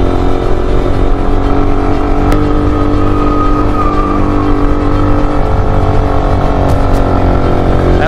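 A motorcycle with a limited engine size climbs a hill on a mountain road cut through the hills of Bandarban, its engine droning steadily and loud throughout with constant road and wind noise.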